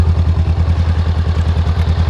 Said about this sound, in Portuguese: Vamos acelerar um pouquinho pra gente ouvir?